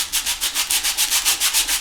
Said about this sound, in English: Now I can sand that ever so easily